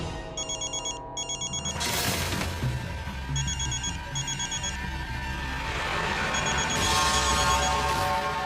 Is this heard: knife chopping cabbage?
no